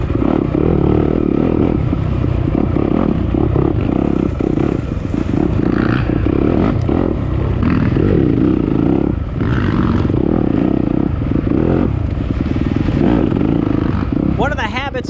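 A stock Yamaha YZ250F four-stroke dirt bike races in a harescramble, its engine droning loud and constant with clatter and surges, while a person talks over it.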